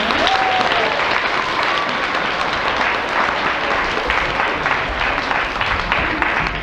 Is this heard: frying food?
no